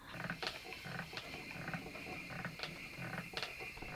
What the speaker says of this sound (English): This is a very creaky spinning wheel. It makes quite a lot of noise.